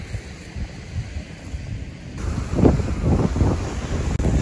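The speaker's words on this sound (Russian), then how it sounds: "Штормит на море" Stormy sea on the coast at Zelenogradsk, with strong wind buffeting the microphone over a continuous roar of breaking surf that swells louder in the second half, no talking.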